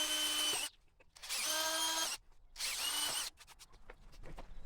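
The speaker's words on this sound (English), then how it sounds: "Next I'm going to pre-drill my holes." A power drill whines in three short bursts, each about a second long, pre-drilling holes in wood, with brief quiet gaps and faint handling noise between them.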